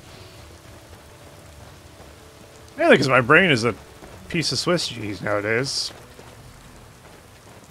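Steady, soft rain hiss falls in modded Skyrim, a constant wash running beneath someone talking.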